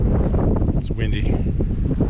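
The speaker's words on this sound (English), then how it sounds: "It's windy." Wind buffets the microphone in heavy, rumbling gusts beside a lake, loud and continuous, with faint voices underneath.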